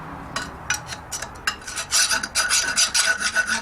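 A hand file rasps against wood inside a handmade wooden block plane, starting with short separate strokes that build into a steady rapid back-and-forth rhythm, loud and close, with no talking.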